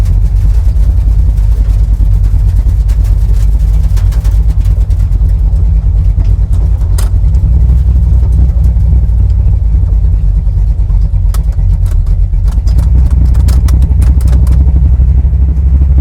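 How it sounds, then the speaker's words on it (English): A 1968 Dodge Dart GTS pro street car idles nearby to cool down, a loud, steady low rumble with clattering texture filling the whole stretch, while a voice talks over it at times. "Gotta let her sit here and idle and cool down for a little bit."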